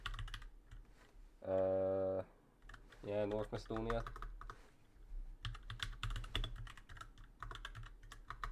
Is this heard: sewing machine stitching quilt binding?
no